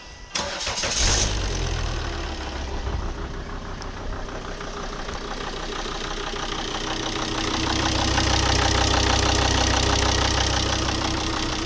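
A Volvo XC70 D5 diesel engine with a fresh timing belt cranks briefly, then fires and settles into a steady, loud, rattling idle that continues to the end.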